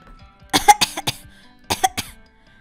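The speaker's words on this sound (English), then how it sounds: "could you please stop coughing on my computer" Coughing from a character in a Roblox game computer-lab scene: a quick cluster of three or four harsh coughs, a brief pause, then two or three more, close and clear against near silence.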